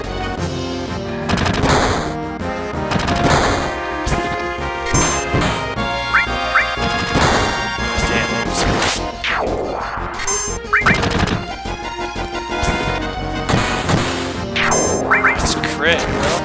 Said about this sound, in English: Ooh, Gatling guns.